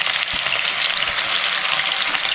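Chopped garlic and ginger fry in oil left over from frying chicken for chilli chicken, a loud, dense, continuous sizzle with a few low bumps and no voices.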